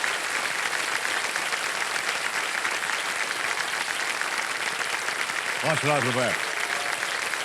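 Studio audience at the KBC quiz show breaks into sustained, steady applause filling the hall; a voice speaks briefly over it near the end.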